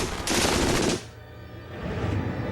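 A burst of extremely rapid MG-42 machine-gun fire, so fast the shots blur into a continuous ripping roar like tearing fabric, then cutting off into a quieter rumbling background.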